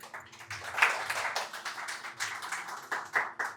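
A small audience claps in a loose, uneven burst, following a remark about violin arrangements in a Tamil discussion of film music. The hand claps are moderately close, steady for several seconds, with no talking over them.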